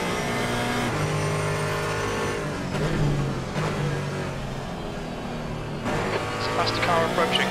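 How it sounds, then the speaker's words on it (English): A faster race car closing in during a multi-class endurance race at the Nürburgring in Assetto Corsa Competizione: engine notes rise and fall through gear changes as cars rev and pass close by, with a voice talking over the engines. "Faster car approaching. Right side."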